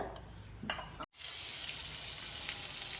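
Butter sizzles hard in a hot pan on the stove for an omelette, a constant bright hiss that cuts out for a split second, then returns at steady strength, with faint clinks early on.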